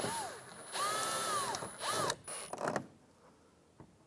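A power driver snugs down screws on the exterior door handle of a 1993–1997 Ford Ranger, giving several short rising motor whirs with clicks in between, then a brief quiet tail.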